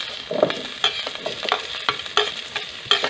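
Onion frying in a pan for Bicol Express, a soft sizzle broken by repeated clicks and scrapes of a spoon stirring at an even pace.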